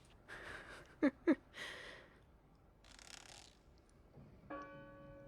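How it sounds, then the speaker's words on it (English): A church bell rings in the video game Draugen, with two sharp, loud strikes close together early on, followed by softer breathy noise and a faint sustained tonal ring near the end. "church bells indeed cannot be rang by the wind"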